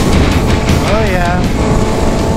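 Motorcycle riding on the road near Lake Tahoe, a loud constant rumble of engine and wind buffeting, with a short voice cutting in over the noise.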